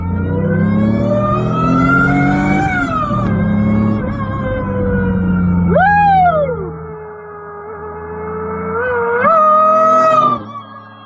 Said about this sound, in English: Just listen to this whine.